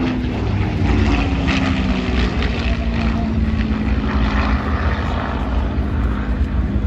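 A Supermarine Spitfire Mark 9C in desert camouflage flies past at an air show in Ayr, Scotland, its piston engine droning loudly and steadily with a rough propeller rumble and outdoor wind noise.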